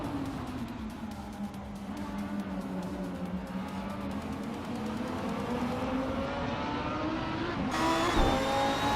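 Race cars, including a 2014 Lamborghini Huracan in the Super Trofeo class, roar around Zandvoort in a racing video game, a steady loud engine drone that rises in pitch near the end, with no talk.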